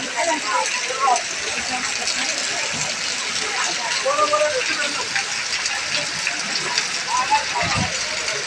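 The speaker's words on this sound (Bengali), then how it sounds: "জোর বৃষ্টি চলতেছে" Dense, steady roar of heavy rainfall pouring down without pause at a market in Gazipur, with muffled voices and movement faintly beneath it.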